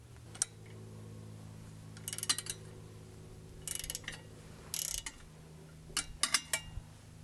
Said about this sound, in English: we take our 13mm wrench on the back side of the pulley bracket, and you have to make sure that you loosen that as well